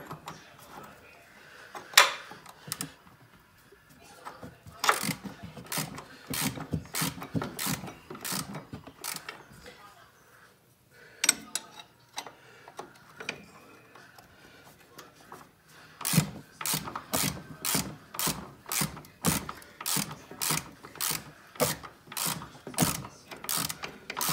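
Ratcheting wrench tightening ball joint nuts on a 2013 Chevy Silverado control arm, with bursts of rapid clicking strokes that pause and resume, close and fairly loud with no talk.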